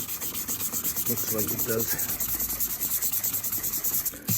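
Headlight lens on a Range Rover L322 being wet-sanded with 2500 grit wet and dry paper, a steady rhythmic rubbing swish up close with a faint low hum beneath.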